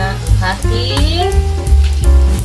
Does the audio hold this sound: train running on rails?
no